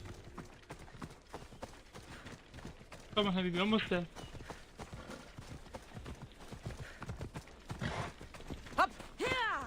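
Horse hooves clip-clop at a gallop in the video game Assassin's Creed Odyssey, a fast steady patter under frequent talk from a player, with a neigh cutting in briefly.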